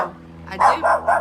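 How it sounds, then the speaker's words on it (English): A dog barks sharply three times in quick succession close by, indoors while houseplants are being repotted, with a brief word spoken just before. "excuse my dog"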